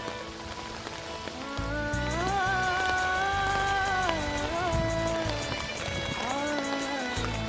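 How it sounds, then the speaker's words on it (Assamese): Light rain falls beside a river where someone is fishing, a soft steady patter running beneath a louder wavering tonal drone. "অলপ বৰষুণ দি আছে, অসুবিধাও হৈছে অলপ।"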